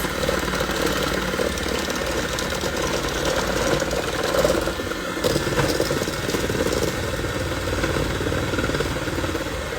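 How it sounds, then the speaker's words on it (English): An electric hand mixer beating oatmeal raisin cookie dough gives a continuous buzzing motor drone with a gritty texture. It stays close and fairly loud without a break for about ten seconds. "So I decided to use the hand mixer for this."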